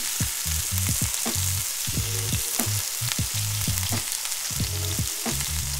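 Continuous loud sizzle of a pork roast browning in a Dutch oven, a broad crackling hiss that holds steady throughout, with faint low background murmurs.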